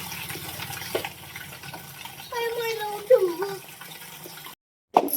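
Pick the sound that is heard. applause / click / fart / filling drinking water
filling drinking water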